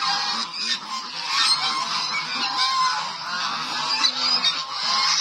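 A flock of geese honks continuously and loudly at close range, many overlapping calls forming a dense, busy chorus with no pauses.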